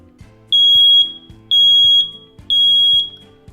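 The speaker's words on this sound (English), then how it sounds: "Ask an adult to press the button on the front to test it. This is what an alarm sounds like." Three loud, piercing electronic beeps from a smoke alarm, each about half a second long, evenly spaced one second apart, with clicks between them.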